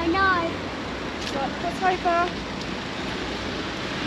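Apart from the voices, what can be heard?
flooded river water rushing in Rye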